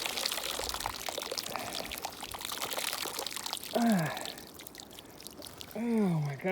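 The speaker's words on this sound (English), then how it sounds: "Pour it on the goat and the chicken's water." Boiled water being poured into the drinking water for a goat and chickens during a historic Texas winter storm: a steady splashing pour runs throughout, while a person speaks over it at intervals.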